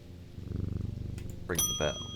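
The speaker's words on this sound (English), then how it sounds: "Pat the kitty." A cat is petted in the video game Strange Antiquities and gives a soft, rhythmic purr for about a second, then bright ringing chime tones sound.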